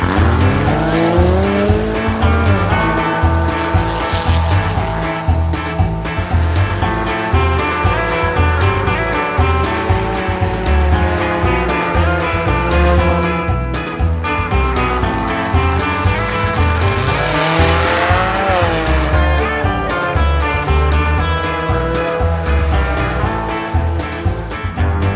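A race car engine screams around a racetrack, revving up and down continuously with bursts of tire squeal, loud and close for the whole stretch.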